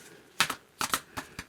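Tarot cards being riffle shuffled close up, a few quick papery flutters and soft snaps in short bursts, quiet and without talk.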